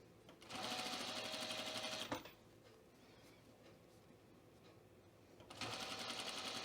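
A sewing machine stitches a Cashmerette Brattle Top garment turned inside out, in two loud, steady bursts of rapid motor whirring and needle clatter separated by a quieter pause with faint handling noise.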